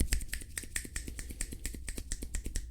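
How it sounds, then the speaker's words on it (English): Fingers snap in a steady, quick rhythm of about a dozen crisp snaps, close to a dynamic microphone, moderately quiet and with no speech. "I'll just kind of demonstrate this with my kind of snapping my fingers here a little bit"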